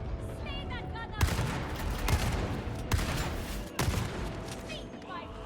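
Gunfire in a Warhammer 40,000 game: four loud, broadband gunshot bursts spaced about a second apart over a constant roar of game noise, with shrill squeaks and chirps at the start and end.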